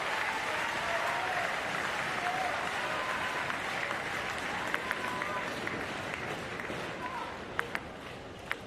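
Arena crowd applauding steadily at a standing para table tennis singles semi-final, a dense continuous wash of clapping that carries through the whole stretch, with a commentator's voice faintly under it and a few sharper claps near the end.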